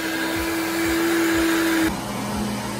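A blender mixes eggs, milk and condensed milk for a pudding. It gives a loud, steady motor whir with no voices, and its tone shifts slightly partway through.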